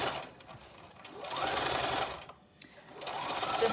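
Domestic sewing machine stitching rows on the layers of a summer skirt with an elasticated waistband: two bursts of fast, even motor whirring, the first longer, separated by a brief pause, fairly close and moderately loud.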